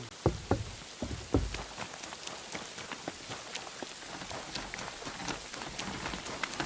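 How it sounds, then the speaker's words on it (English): Steady rain patters across a surface in the video game Kingdom Come: Deliverance II, with scattered sharper drops and a few heavier taps standing out early on. "Bloody rain."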